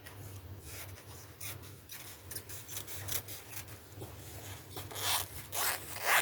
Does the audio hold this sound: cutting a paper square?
yes